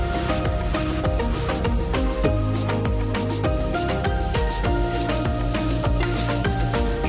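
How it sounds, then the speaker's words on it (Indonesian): Chili powder sizzles and fries in a wok while being stirred for a wonton dish, a continuous crackling hiss with music playing loudly over it. "kita masukkan cabai bubuk ke dalam wajan"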